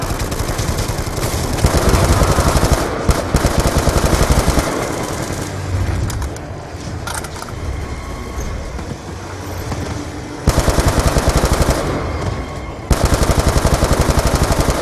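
Rapid automatic gunfire rattles in Black Ops 2 Zombies on the Origins map, loud and close, in long sustained bursts with a brief quieter stretch in the middle.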